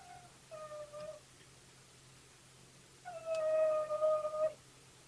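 A dog howls in the background of a phone call, with two drawn-out, wavering howls, a short one and then a longer, louder one after a pause. The howls are moderately distant and are heard alone without talk.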